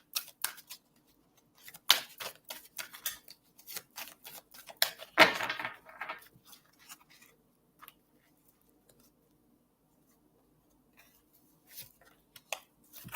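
A deck of cards being shuffled and dealt makes quick close riffles and soft flicks in a busy cluster, with a longer riffle near the middle, then a few scattered taps among long quiet gaps.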